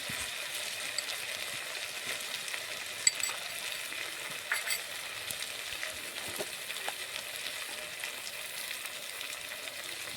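Turmeric powder, salt and dal ingredients frying slowly in a clay pot, giving a steady soft sizzle with occasional faint stirring scrapes throughout.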